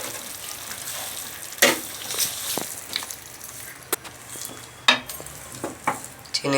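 Sugar being stirred into raw mango chutney in a pan, a spoon scraping and clinking against the pan in a few sharp, irregular strokes over a soft sizzle, close and fairly quiet.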